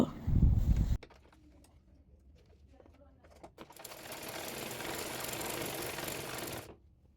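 A sewing machine stitches neck piping fabric for a kameez, running in one steady, buzzing whir for a few seconds before stopping. A heavy low thump and rumble comes first, then quiet handling noises.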